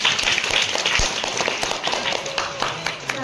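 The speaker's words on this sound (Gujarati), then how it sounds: "તાળી પાડો બધા" Children and adults clapping together at a school entrance welcome celebration, a lively scattered round of applause with voices and bustle mixed in.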